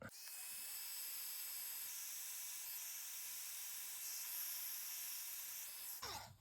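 Heat tool blowing steadily over a freshly whisked mixed media medium, a continuous airy hiss with a faint whine holding for about six seconds before cutting off abruptly near the end.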